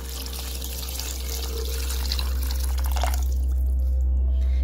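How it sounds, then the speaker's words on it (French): Hot water poured over rinsed beef tripe seasoned with salt and lemon in a Congolese home kitchen, a steady close splashing stream that fades out near the end. "maintenant on va y mettre de l'eau chaude"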